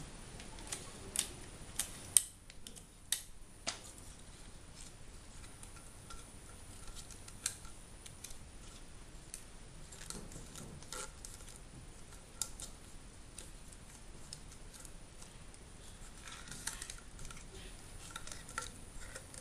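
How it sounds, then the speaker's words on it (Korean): Tape is torn and pressed down to fix straws to a paper cup: scattered small crinkles, clicks and ticks, quiet and close, with brief pauses between handling sounds. "칼대를 벌려서 테이프로 고정해 줍니다"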